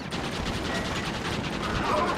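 Gatling gun in Red Dead Redemption firing in a rapid, continuous rattling burst, loud and close, with evenly spaced shots running for the whole moment and no clear talk.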